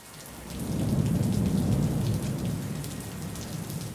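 Steady rain pours down during a thunderstorm, with a deep rolling rumble of thunder swelling early and slowly easing off. A dense, constant patter continues throughout, loud and close, with no voices.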